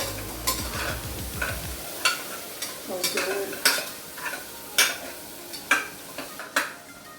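Onions frying in a pan for mutton keema pulav, with a steady soft sizzle broken by sharp scraping stirs and spoon clicks against the pan, close and moderately loud, with a brief low hum at the start.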